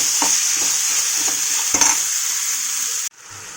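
Tomatoes frying in a pan with a loud, steady sizzle, close by, while a utensil stirs and scrapes through them in several short strokes before the sizzling drops away near the end.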